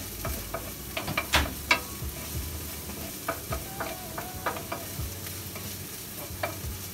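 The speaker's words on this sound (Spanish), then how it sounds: "Now we're pouring in the onions." Garlic and onions for fried rice sizzle in a pan, a steady moderate hiss broken by frequent sharp spatula scrapes and taps; nobody speaks.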